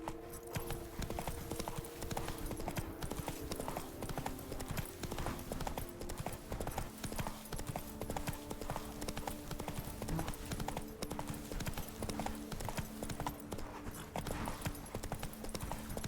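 Roach the horse gallops in The Witcher 3: Wild Hunt, a steady rapid clip-clop of hooves running continuously and evenly with a low ambient music bed beneath.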